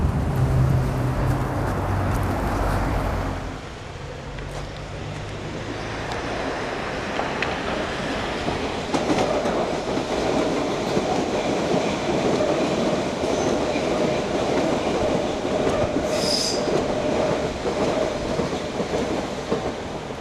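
A London Underground train rumbles and clatters along the tracks, loud and continuous, with wheel noise and a brief high squeal partway through.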